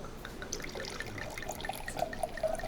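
Liquid poured on a film set, a trickling, dribbling stream with small drips, moderately close and steady for about three seconds, with no talking.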